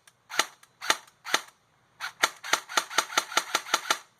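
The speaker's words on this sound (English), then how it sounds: "just a few shots so we can hear how it sounds" A Lancer Tactical Gen 2 LT-19 airsoft gun on a 7.4 battery fires a series of sharp snappy shots, first three spaced single shots, then a quicker run of about a dozen close, evenly paced cracks.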